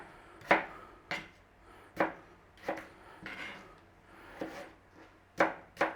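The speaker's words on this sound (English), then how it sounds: "Now I am cubing them small already" A knife cubes potatoes on a chopping board, giving about nine sharp, evenly spaced chops heard close and clear.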